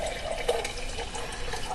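Filtered water pours into a container in a home kitchen, a short, steady trickling splash that stays close and even throughout with no talking.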